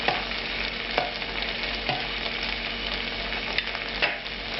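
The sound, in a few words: angel hair pasta tossed in melted butter in a pan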